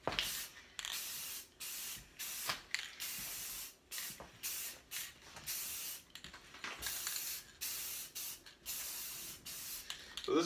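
Bursts of hissing aerosol spray as metallic aluminum paint is sprayed onto a countertop, in uneven on-off pulses with brief pauses between passes, fairly quiet and close.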